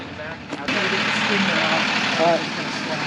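Truck engine idling in a V8-swapped S10 setting, a steady low rumble that grows slightly louder partway through and holds even, heard up close with no clear talk over it.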